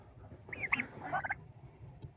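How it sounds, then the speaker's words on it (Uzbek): Turkeys raised for meat on a poultry farm gobble in two short bursts of rapid, warbling calls, moderately close against faint background noise. "mana kurkalarimiz"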